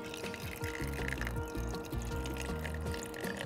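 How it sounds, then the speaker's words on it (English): Pond water is poured slowly into a jar, a soft, continuous trickle and splash that stays quiet beneath stepped musical tones throughout. "Step three, slowly pour the pond water into the jar."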